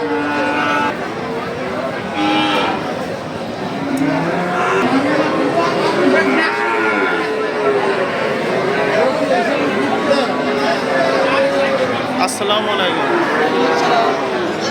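Cattle, including Sahiwal and Nepali bulls and calves, moo repeatedly amid a busy, noisy crowd at the Satmail cattle market, with people talking throughout and occasional vehicle sounds.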